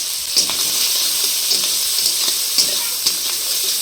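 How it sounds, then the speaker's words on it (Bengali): Prawns frying in hot white oil, a loud, close, steady sizzle with periodic light stirring clicks and no voices. "এবার দিদি চিংড়ি মাছ দিয়ে দিচ্ছে। চিংড়ি মাছটা আগে ভেজে নেবে।"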